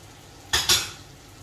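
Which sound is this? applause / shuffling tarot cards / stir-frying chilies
stir-frying chilies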